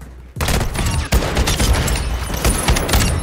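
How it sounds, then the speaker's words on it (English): Rapid, loud shotgun blasts in Call of Duty: Warzone, several heavy booming shots fired in quick succession, close and dominant, with no speech over them. "I'm here with a shotgun ready to rock your world"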